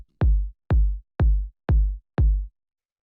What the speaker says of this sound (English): After that, we have the kick, which sounds like this.